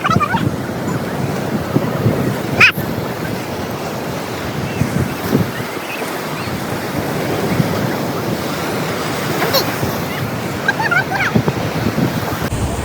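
Sea waves wash onto a beach in a continuous rushing surf, with gusts of wind buffeting the microphone and faint voices mixed in.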